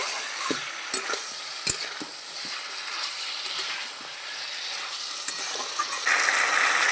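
Rohu fish head sizzling and being stirred in a hot pan, a steady broadband frying hiss with occasional scraping clicks of a spatula, fairly close and moderately loud with no talk.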